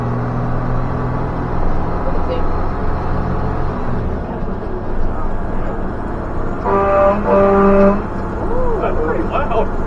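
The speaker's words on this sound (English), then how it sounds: "Now I'm going to hit the horn in a second just to see how loud it is." A fire truck's horn blasts loudly and close over the rumbling engine of the moving truck in Midway, Pennsylvania, with people talking around it.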